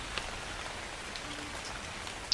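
Steady rain falls in the survival game ARK, a continuous even hiss of drops on surfaces with a few slightly louder patters, heard alone without talk.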